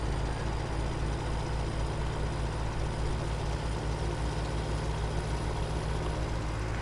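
A farm vehicle on off-road tyres drives in Farming Simulator 17, its heavy diesel engine giving a steady, loud, low rumble with no talk over it.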